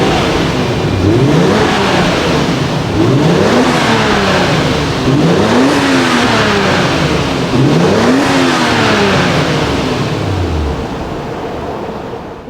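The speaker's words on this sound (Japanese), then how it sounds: "マフラーサウンドやりましょう" A near-stock Toyota Chaser JZX100 Tourer V with a 1JZ-GTE engine and a street-legal replacement muffler revs through its exhaust, four or five close, loud swelling throttle blips that rise and fall in turn.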